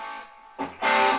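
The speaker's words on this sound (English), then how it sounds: "I would put a delay in the effects loop." Electric guitar run through a Boss DD3 delay pedal in an amp's effects loop, with amp reverb: a sustained chord fades into a fresh strum, then a louder, brighter burst rings with echoing repeats, close and alone.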